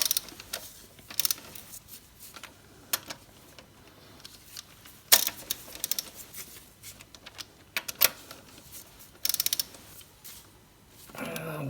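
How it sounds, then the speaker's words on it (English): Ratcheting torque wrench tightening the injector rail bolts on an Isuzu 4JX1 engine, giving a series of short mechanical clicks and ratchet bursts at close range, spread irregularly with quiet gaps between. "Torque the rail bolts to 20 Newton meters."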